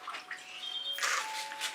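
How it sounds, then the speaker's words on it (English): Water runs and splashes over paint-covered fingers being rinsed off, a soft, close, steady trickle with brief bursts of splashing, heard alone. "I'm going to rinse my fingers off."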